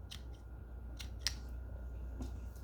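Serrated scissors of a Nextorch Pioneer multi-tool snipping a cable tie, giving a few sharp, close clicks and snaps spaced apart over quiet background hiss.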